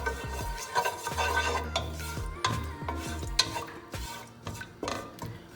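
A tablespoon of cumin seeds goes into hot oil in a pot over high heat, with steady sizzling, metal clinks and scraping from stirring, close and continuous.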